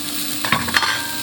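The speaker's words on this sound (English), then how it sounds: "So I'm sauteing these onions, carrot, celery, and garlic with my cumin seeds." Onions, carrot, celery and garlic sautéing with cumin seeds in a pan: a soft sizzle with two quick stirring scrapes, close up and brief.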